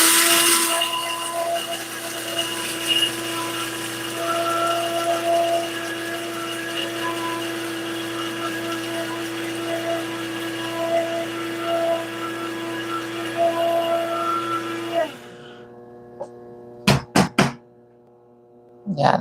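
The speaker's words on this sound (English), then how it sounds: "I'm going to go ahead and grind this out now" Electric grinder grinding ingredients for a Jamaican sweet potato pudding, a steady loud whirring drone running about fifteen seconds before cutting off, followed by a few sharp knocks.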